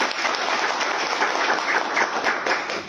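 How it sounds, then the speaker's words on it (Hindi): Steady, dense applause from a crowd, continuous and fairly loud throughout with no voices standing out. "जोरदार तालियां उनके लिए"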